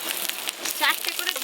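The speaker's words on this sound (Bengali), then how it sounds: "এবার পাতুরিগুলো একটা একটা করে ভেজে নেব।" Pieces of katla fish paturi fry in hot oil, giving a brief, close, steady sizzle with light crackles.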